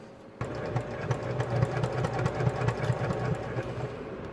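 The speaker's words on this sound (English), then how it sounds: "we'll go ahead and take these to the sewing machine" A sewing machine starts up and runs at a fast, steady mechanical rhythm, its rapid stitching chatter through fabric continuing evenly throughout.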